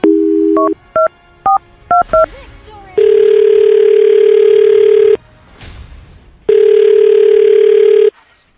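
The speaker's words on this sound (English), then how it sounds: "I'm going to dial her phone number right now." A telephone being dialed: a series of short touch-tone beeps, followed by two long steady ringing tones separated by a pause, loud and close with no talking over them.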